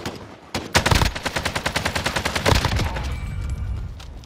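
AK-47 automatic fire in Call of Duty Warzone, a loud close burst of rapid rhythmic shots lasting about two seconds, then a second short burst tailing into echo and game ambience.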